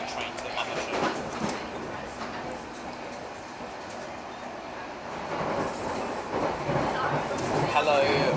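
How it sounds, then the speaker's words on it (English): A fast Metropolitan line train to Amersham rushes past a London Underground station, a steady broadband rumble with rising rail noise and faint wheel squeal toward the end, heard with station ambience. "Goodbye, fast Metropolitan line train to Amersham."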